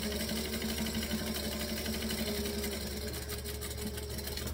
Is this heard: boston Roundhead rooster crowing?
no